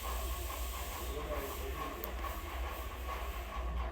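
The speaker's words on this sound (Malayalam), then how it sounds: "ഈ സെയിം ഓയിൽ നമുക്കൊരു ചട്ടിയിലോട്ട് ഒഴിച്ചു കൊടുത്ത് കുറച്ച് കടുകിട്ട്" Mustard seeds and dried red chillies sizzle in hot oil in a pan, cooked for a ginger curry, giving a loud, steady hiss that never lets up.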